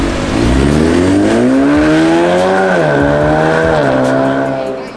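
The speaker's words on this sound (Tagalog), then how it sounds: "Grabe ang ingay na ng kotse ko." A loud modified car engine revs up hard, its deep growl climbing in pitch, briefly dipping, then rising again, close and sustained for several seconds.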